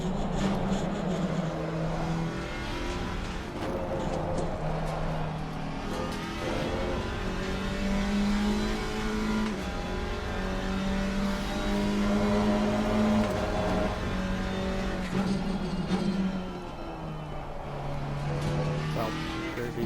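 An Alpine GT4 race car in a racing video game: a sustained, loud engine drone that rises and falls through gear changes for the whole stretch, with no talk over it.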